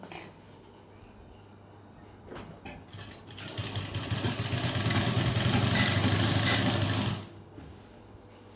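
A sewing machine stitching fabric for a washing machine cover, quiet at first, then a steady mechanical whirring run that builds, holds for a few seconds and stops abruptly, heard up close.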